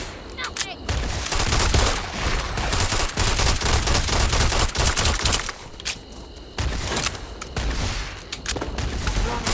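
Gunfire in the video game Starfield, dense rapid bursts of automatic shots, loud and close, continuing almost without pause with brief gaps.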